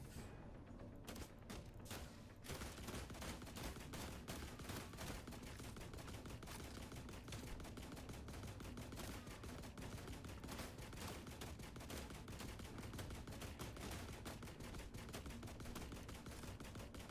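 Sustained automatic gunfire aimed at a robot in The Last Caretaker, a loud unbroken stream of rapid shots running nearly the whole time with a brief pause early on.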